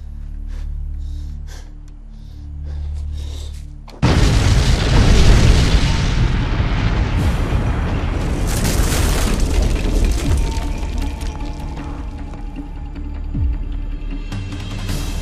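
A single heavy blast, detonated on command in a military combat scene, erupts suddenly after a low rumbling lead-in, followed by a long loud roaring wash of debris and rumble that slowly tapers off.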